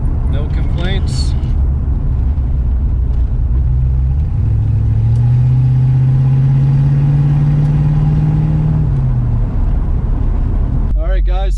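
A 1986 Ford Mustang Foxbody hatchback with 53,000 original miles drones steadily while driving, its engine note rising and holding through the middle before easing off, with a voice talking briefly over it near the start and end.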